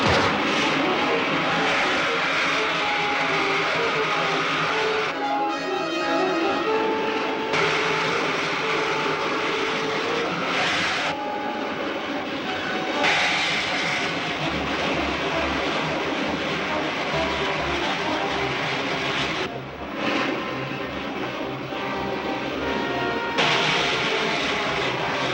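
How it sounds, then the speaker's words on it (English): Rocket ship main jets fire in an old film serial, a loud continuous roaring rush that holds steady for a long stretch with brief dips and surges, close and dominant throughout. "Fire main jets."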